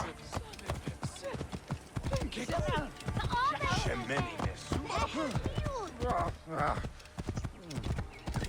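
Horse hooves clip-clop at a steady trot in Assassin's Creed Origins, close and rhythmic, running under continuous game voices and talk for the whole stretch.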